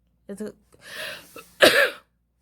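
A few short throat clearings and a rough cough, close and brief, separated by quiet pauses.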